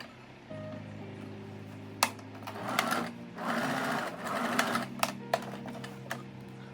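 A sewing machine stitches closed the gap in an elasticated trouser waistband, running in several close bursts with brief pauses and sharp clicks between them, alone and clearly audible.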